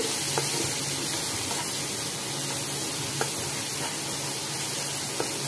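Pomfret fish masala frying and reducing in an uncovered pan, giving a steady, moderately loud sizzling hiss with a few faint ticks and pops, heard alone without talk.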